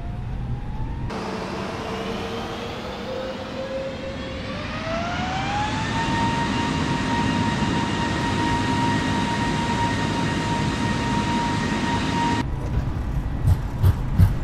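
An airliner's engines spool up and roar steadily during a simulated takeoff roll in Microsoft Flight Simulator, rising whine tones climbing then holding over a constant rumble that stops abruptly.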